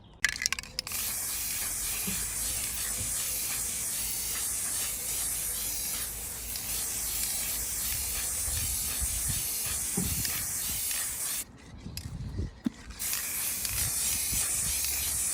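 Continuous hissing spray from an aerosol plastic spray paint can used on a Land Rover Discovery 5, running steadily for long stretches with a couple of brief pauses and faint clicks.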